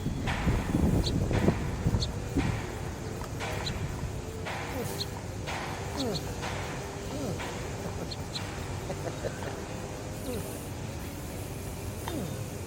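A hand pump pushes air into a soft bicycle tire in a steady rhythm of short hissing strokes, close by, while someone talks over it.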